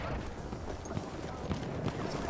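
Hooves of a horse in the World War I shooter Battlefield 1 clatter in a quick, steady clip-clop, fairly close, mixed into a dense wash of game noise.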